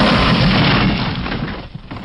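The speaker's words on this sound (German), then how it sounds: "Unter einer scheppernden Explosion wird das Fallgitter in abertausende Teile zerrissen" A loud, booming explosion shatters an iron portcullis, roaring through the whole stretch and settling into a heavy rumbling, clattering crash, with no voices.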